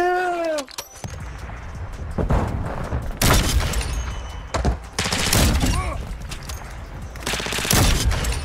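Bursts of gunfire from Call of Duty Modern Warfare 2 multiplayer, with loud sharp shots in clusters across several seconds, some rapid volleys, over game noise and occasional voices.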